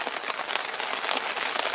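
Steady rain patters hard and continuously on an outdoor surface during a sea fishing session on a UK shore, a dense, even hiss with no voices.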